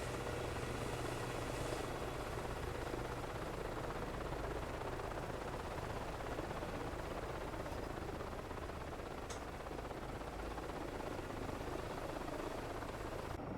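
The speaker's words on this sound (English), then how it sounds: "Separate sound on the Fenestron rotor" An EC135 helicopter in the MSFS 2024 video game hums and whines steadily with its Fenestron tail rotor, a continuous faint drone lasting throughout without pauses.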